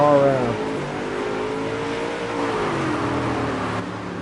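Dirt track race cars at Lernerville roar around the oval in a steady engine drone, a pack of motors revving at moderate distance, with a commentator talking over them.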